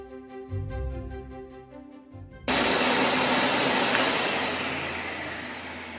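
A Hoover vacuum fitted with a floor tool cuts in abruptly partway through, becoming a loud, steady, broadband whoosh that slowly eases off in level, after a quieter tonal hum at the start.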